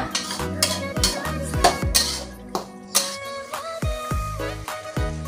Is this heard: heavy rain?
no